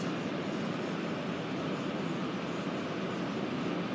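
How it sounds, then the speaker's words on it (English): A broad, steady roar of a jet engine as an airplane takes off, distant and constant, with no voices over it. "There's a plane now taken off."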